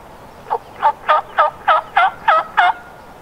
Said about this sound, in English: They're gobbling right where I missed them yesterday